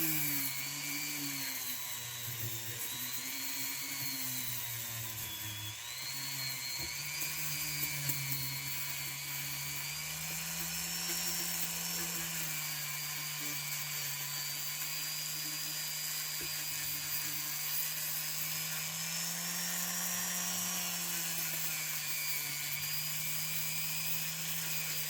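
A small rotary tool fitted with a polishing pad whines continuously at a high, wavering pitch, its tone rising and dipping as pressure on the pad changes, close and steady with no talk.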